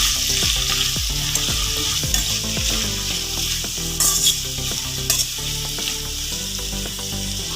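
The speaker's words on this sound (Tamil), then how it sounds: "போட்டு இதை நல்லா வதக்கிக்கலாங்க." Washed thoothuvalai leaves sauté in a pan for dosa, a loud continuous sizzle layered with frequent metallic spatula scrapes and knocks against the pan, close up and rhythmic.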